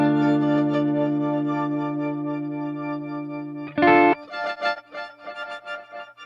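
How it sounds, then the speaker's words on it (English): Guitar tone run through an Encounter ambient delay and reverb pedal with its tremolo set to a high modulation rate, giving a sustained, wavering chord that pulses quickly and then breaks into choppy, rhythmic stabs. No voices. "you can bring in this tremolo to sort of pan things back and forth and open up the playing a little bit"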